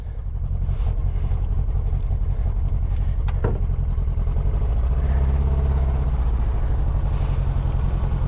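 An Austin Healey sports car drives along, its engine giving a steady, loud, low drone with a continuous rumbling hum close by and no talking.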